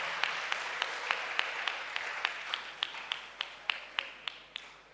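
Steady, rhythmic clapping from a church congregation acclaiming the Lord during a worship service, about three claps per second, evenly spaced and moderately distant in a reverberant hall.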